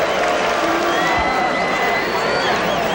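Crowd noise at a 1976 election event, a dense loud murmur of many voices with scattered whoops and cheers, continuous throughout.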